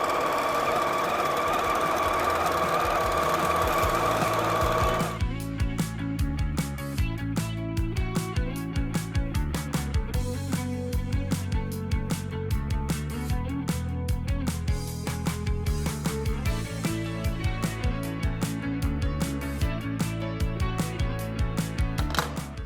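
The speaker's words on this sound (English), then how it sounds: "Now we're gonna sew a 1/4 inch on both sides of the lines that we drew." A sewing machine stitches quarter-inch seams along drawn lines on quilt half-square triangles, with a rapid, steady mechanical chatter that runs continuously and close after an opening stretch of louder whirring.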